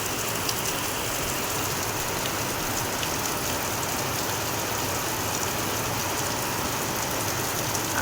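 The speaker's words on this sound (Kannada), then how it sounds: "ನಮ್ಮೂರಲ್ಲಿ ಮಳೆ ಸ್ಟಾರ್ಟ್ ಆಗಿದೆ" Heavy rain pours down in a steady, dense hiss, unbroken for the whole stretch, with no voices.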